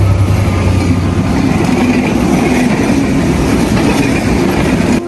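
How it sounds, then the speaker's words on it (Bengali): A huge train rushes past at high speed along an open railway line, a loud, steady roar of wheels and wind that holds close and constant for the whole stretch. "ঝড়ের গতিতে বাতাসে ভাসিয়ে আমাদের পাশ দিয়ে চলে যাচ্ছে প্রকাণ্ড এক ট্রেন"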